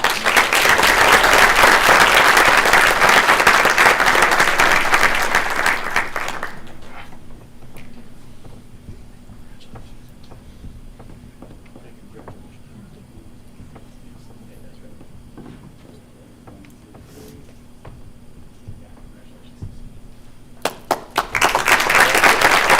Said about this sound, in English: we'd like to have a nice round of applause for Amanda